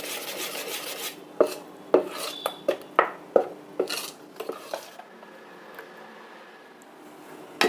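Two spoons of salt are stirred into fermented dosa batter, with a spoon scraping and clinking against the bowl in a run of sharp taps before the stirring eases into softer, quieter rubbing.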